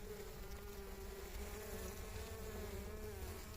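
Honeybees swarm an open beehive with healthy, swollen combs, producing a dense, steady buzzing drone close by, with no talk.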